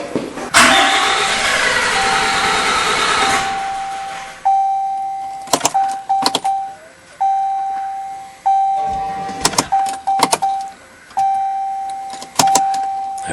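A 2013 Ram 2500 with a 6.7-liter engine cranks and catches, running loudly for about three seconds before it cuts off. A steady electronic chime tone follows, broken up by repeated sharp clicks.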